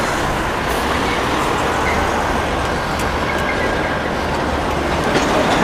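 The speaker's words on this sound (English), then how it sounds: "Oop, whole bunch of trucks coming now." A steady stream of heavy trucks rolls past on a road in Japan, a continuous loud, broadband rumble and roar with no gaps and no talk over it.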